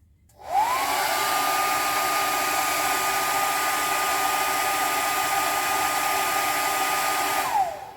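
A cheap Walmart hair dryer switches on with a quick rising whine, then holds a loud, steady blowing hum for several seconds before winding down at the end.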